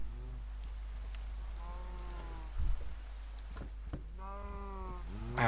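Steady rain hisses in modded Minecraft, a soft, even wash of falling drops, with several faint sheep-like bleats rising over it and a low constant hum beneath.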